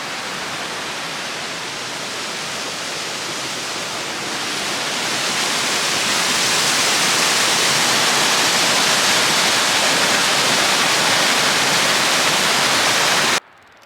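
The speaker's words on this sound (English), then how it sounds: "Made it to the Cispus River." The Cispus River rushes steadily along a hiking trail as dense, broadband water noise. It swells a little louder midway, then cuts off abruptly at the end, with no talking.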